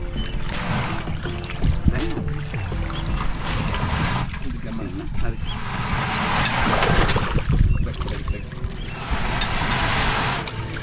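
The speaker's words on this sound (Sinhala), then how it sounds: "ඔන්න ඉතින් රාජාංගනේ වැවේ ඔරුත් පැද්දා." A dugout canoe is paddled across Rajanganaya reservoir, with splashing paddle strokes and water sloshing against the hull amid wind. People talk throughout.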